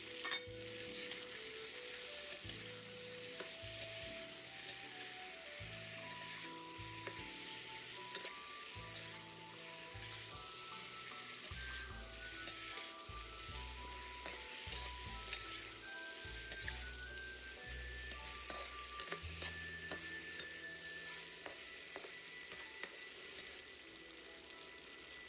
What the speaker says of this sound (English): Next, toss in the tendon slices and stir them together.